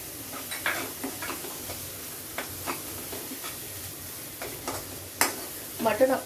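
Chicken with an onion-coconut paste sautés in a pan, a steady low sizzle broken by repeated scraping stirs and a few sharper knocks of the spoon near the end.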